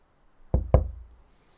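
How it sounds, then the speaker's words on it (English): Two firm knocks on a door in Farming Simulator 19, close and dull with a woody thump, followed by a short fading resonance in an otherwise quiet scene. "let's knock on the door"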